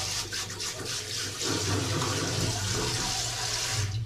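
Tap water runs steadily into a baby's bath, a continuous rushing splash that swells slightly partway through and stays close and constant.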